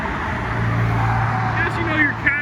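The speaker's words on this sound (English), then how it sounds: "your casual Woodlands traffic, 720 Spider, no big deal" A McLaren 720S Spider drives by in Woodlands traffic near a car meet, a steady engine and road rumble passing close while people talk over it.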